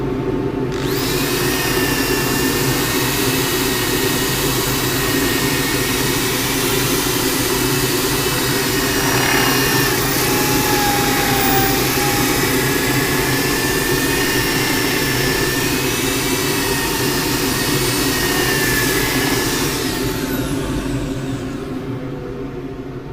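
Sanding a green-turned casuarina bowl on a lathe with fresh 120 grit paper, a loud continuous whirring rush with steady motor hum, close, fading at the end.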